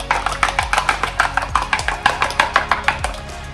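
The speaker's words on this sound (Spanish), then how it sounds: "Primero voy a revolver los huevos." Eggs are beaten in a bowl with a rapid, even run of close, sharp clicking strokes that continues steadily for several seconds and then slows slightly near the end.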